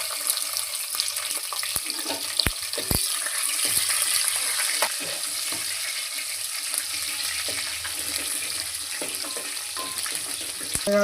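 Green chillies frying in oil for a bottle gourd curry give off a steady broadband sizzle with scattered sharp pops and light scraping clicks throughout, close and fairly constant.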